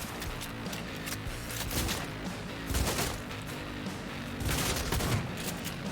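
Rapid gunfire in the video game Cyberpunk 2077 on a nomad hard run, with bursts of shots recurring across the clip over a busy, dense game soundscape, and no talk.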